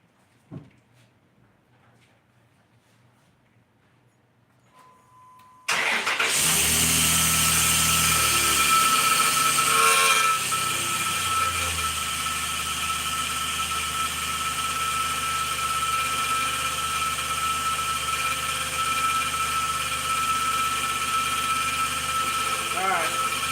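A Dodge car engine, suspected of a flywheel or torque converter problem, cranks and catches after a few quiet seconds, then settles into a loud, steady idle with a faint squeal running through it.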